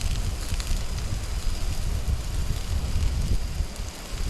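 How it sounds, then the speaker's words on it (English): Steady, loud storm wind roaring and buffeting close by at a wild camp in the Yorkshire Dales, with rumbling gusts and no voices. "I can tell by the clouds that it is getting windy"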